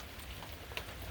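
Rain falls at an off-grid cabin on a stormy January night, a soft continuous hiss with a single faint drop tapping briefly, low and steady with no voices.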